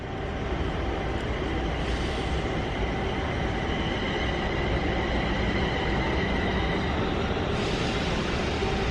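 A London Northwestern train of eight carriages rolls through Leighton Buzzard station with a loud, continuous rumble and steady wheel noise close by, unbroken for the whole stretch.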